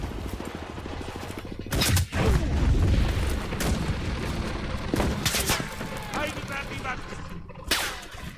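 A video game firefight plays out in bursts: sharp gunshots and booming blasts with rapid volleys, alongside a player's speech.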